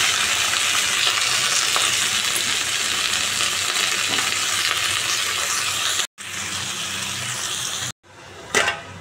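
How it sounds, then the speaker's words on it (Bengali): Neem leaves and potatoes frying in a pan, a loud continuous sizzle lasting several seconds, cut off by two brief silences, with a faint splash of water near the end. "চলো এখন একটু নিম আলু ভাজি, নিম পাতা আর আলু একটু ভেজে নিই।"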